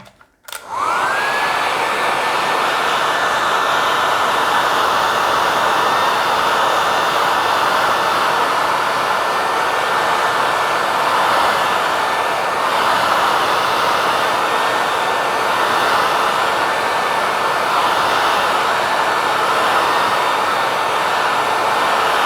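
A hair dryer runs steadily and loudly for about twenty seconds to dry a finished watercolour painting, switching on sharply at the start and holding an even, close-up whoosh with a thin whine throughout.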